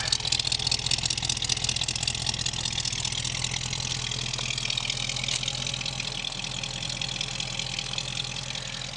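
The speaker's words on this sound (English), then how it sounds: "Car sounds really good. It's really got a good quiet rumble to it." A 1965 Chevy Impala SS convertible engine idling nearby with a steady, low, even rumble that continues throughout without revving.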